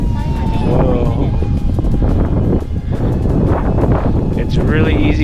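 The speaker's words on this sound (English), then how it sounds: "with the wind that's coming against it when you're turning" Strong wind gusts past a flying EDF model jetliner, a loud rushing roar across the microphone with the ducted-fan whine rising and falling as it turns, and a voice speaking over it.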